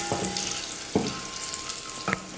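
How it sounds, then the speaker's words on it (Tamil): Cashews and raisins fry in ghee in a pan for a sweet rava laddu, a soft continuous sizzle with a few light stirring taps and scrapes; no voices. "முந்திரி ஓரளவுக்கு வறுபட்டதும் உலர் திராட்சை கொஞ்சம் சேர்த்துக்கிறேன்"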